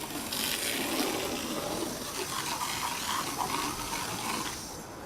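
ProPack foam system pushing residual foam through its hose, a steady close hissing gush of water and foam running for several seconds before easing off near the end.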